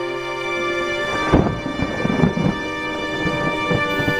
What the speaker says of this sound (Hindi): कुछ ही समय में रात हो जाती है और बारिश होने लगती है